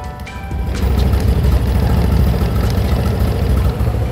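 A steady used motorcycle engine rumble runs throughout, loud and close, with a constant low drone and no speech.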